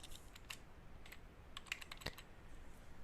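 Password being typed on a computer keyboard during a software install: scattered keystroke clicks in short bursts, close and fairly quiet, with no talking.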